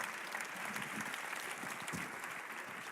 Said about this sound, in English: round of applause for the panelists today